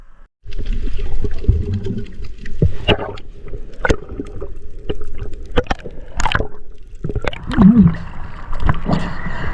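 Strong ocean waves and current churn around a spearfisher in rough surf, with loud splashing, sloshing bursts and sharp cracks of water breaking close to the microphone.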